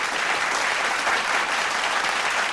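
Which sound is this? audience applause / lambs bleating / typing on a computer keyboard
audience applause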